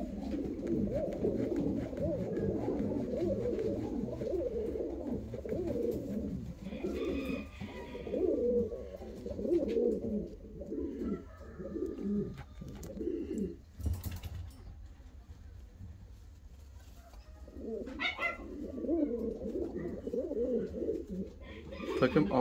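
Fancy show pigeons coo close by in low, rolling, repeated phrases, with a brief scuffling noise midway and a faint murmur of voices.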